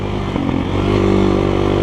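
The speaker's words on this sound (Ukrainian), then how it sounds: "розганяється мотоцикл плавно" A GEON X-Road 250 PRO dual-sport motorcycle accelerates smoothly, its engine droning loud and close with a steady rising tone and no talk.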